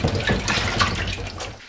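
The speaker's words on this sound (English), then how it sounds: "I usually just run them under the tap, give them a rub over." Tap water runs over apples being rinsed at a kitchen sink, a close, steady splashing and gurgling stream lasting under two seconds, alone without voices.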